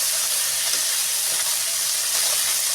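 Small fish frying lightly in a pan give off a steady, loud, close sizzle with dense hiss that holds through the whole span without pause or talk.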